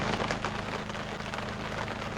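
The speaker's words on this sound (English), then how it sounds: "And here comes the rain this morning." Rain falls on a campsite at an old family homestead, a steady dense hiss of drops spread evenly throughout the short stretch with no voices.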